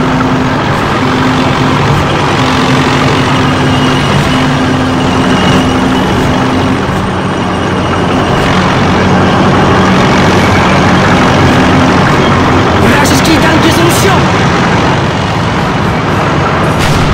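A heavy tank engine in the video game Call of Duty rumbles continuously at close range, loud and steady with a deep idling drone, and no talk over it.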